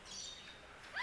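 Small birds chirp in an old-city alley in Chiang Mai, Thailand, a faint high twitter followed by a brighter, louder call at the very end of a brief moment.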